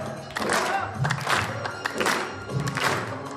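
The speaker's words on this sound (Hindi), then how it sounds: "तालियां बजाओ" An audience claps along at a devotional bhajan gathering, with broad bursts of clapping rising and falling in a steady rhythm at moderate loudness.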